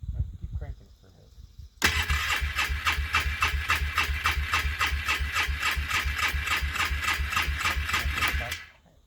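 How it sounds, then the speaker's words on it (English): A vehicle engine cranks over on a cold start with a little gas, sounding as a loud, steady, rhythmic starter churn for about seven seconds without catching, then stopping. It follows a brief quieter stretch with faint sound at the start. "Right, keep cranking it for a bit."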